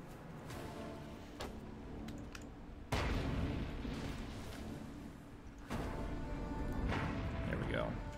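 Mortar and artillery fire in the real-time strategy game Iron Harvest, heavy booming blasts that step up sharply in loudness at two points amid a continuous battle din, with a player talking over it.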